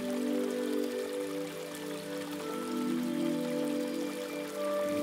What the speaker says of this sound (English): barefoot by the creek with my son Phoenix